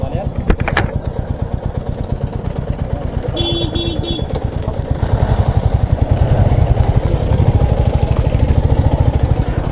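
Motorcycle engine running steadily while riding toward the Kherling Mahadev fair in Uttarakhand, a loud, close, rhythmic chug throughout with a brief higher chirp in the middle, under people talking.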